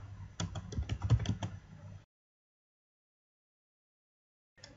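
A ping command is typed on a computer keyboard in a Linux command line: a quick burst of about a dozen close keystrokes, then silence, then a few more keys at the very end.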